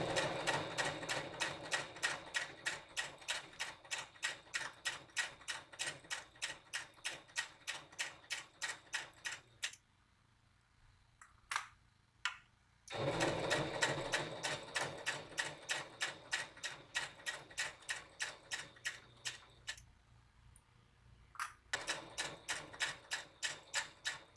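A sewing machine stitches a quarter-inch seam on a Star Trek cosplay skant in quiet rapid bursts of rhythmic needle clatter, pausing twice with small clicks between runs.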